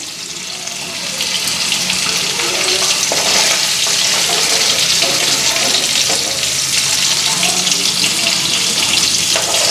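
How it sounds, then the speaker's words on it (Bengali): Steady loud sizzling as water is poured into paneer frying in a pan, a continuous hissing spatter close up with no voices. "পনিরটার মধ্যে একটু জল দেওয়া দেবো আরও সফট থাকবো পনির"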